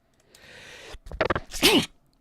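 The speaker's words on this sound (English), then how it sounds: "Oh dear me, got sneezes today" A single close sneeze with a sharp intake of breath before it, loud and alone.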